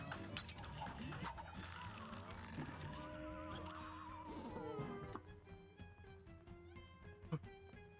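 A cartoon horse neighs during a boss fight in the video game Cuphead, a wavering whinny amid game music, gunfire-like effects and busy action sounds, with a player's voice talking over parts of it.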